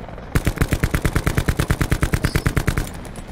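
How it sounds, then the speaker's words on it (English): Rapid automatic gunfire from a video game: a loud, steady burst of about twenty evenly spaced shots over roughly two and a half seconds, close and sharp, with no talking. "Who just shot that?"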